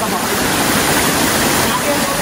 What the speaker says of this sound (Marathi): चला, धबधबा बघितला.